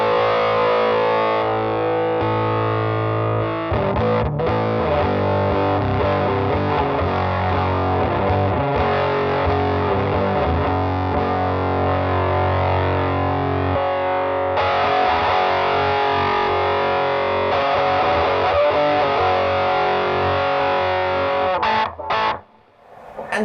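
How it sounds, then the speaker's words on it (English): Electric guitar played through a DIY Rangemaster treble booster pedal gives a loud, saggy, fuzz-like distorted tone, with strummed chords and single notes running continuously and ending in a brief stop. "a poorly played guitar with our brand new treble booster"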